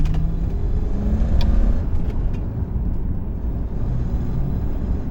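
Toyota Crown with a 1UZ-FE 4-litre V8 accelerating, exhaust flap open, gives a steady, loud low engine rumble that swells slightly early on, then holds a dense drone throughout with no talk.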